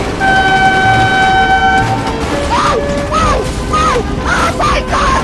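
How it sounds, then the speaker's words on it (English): A train horn sounds steady and loud for about two seconds, followed by excited shouting and whistling-like cries over a rumbling background. "Oh my God, train!"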